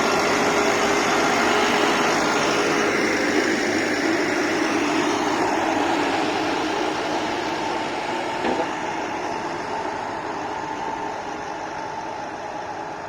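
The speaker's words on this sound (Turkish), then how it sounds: "Şurası yumuşak olduğu için tek traktör çıkaramıyor." A heavy Erkunt tractor engine drones loudly and continuously, laboring under strain on soft, steep ground the whole time, with no voices.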